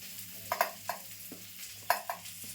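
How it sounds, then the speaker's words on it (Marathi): Okra is stirred in a hot pan with a soft sizzle, a spatula scraping in short repeated strokes at an uneven rhythm. "भेंडी थोडी अजून भाजली पाहिजेत ना अजून थोडी थोडीशी काळी झाली पाहिजे"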